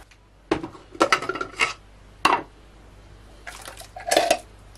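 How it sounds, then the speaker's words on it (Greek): Tomato mixture tipped into a frying pan, with several clattering knocks of utensils and pan and a few wet splats, spaced out in separate bursts close by. "Θα ρίξουμε το μείγμα μας, την ντομάτα μας στο τηγάνι."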